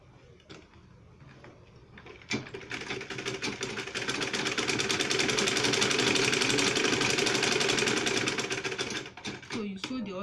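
A sewing machine stitches a double-pocket market women purse, starting after a brief pause and running in a steady loud whir for several seconds before slowing; a voice talks faintly around it.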